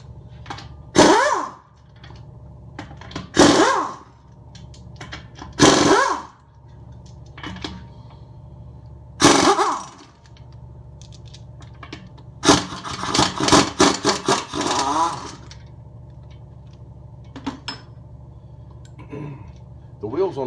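A power tool spins the lug bolts off the front wheel of a 2006 BMW 325i in several short, loud whirring bursts, the last one longer and rattling, with quiet pauses between them.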